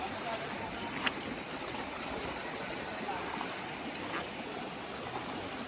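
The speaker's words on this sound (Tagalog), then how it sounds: "Yan guys, ilog." A river in Aklan flows in a soft, continuous rush of water, heard faintly at a distance. Low murmurs may sit underneath it.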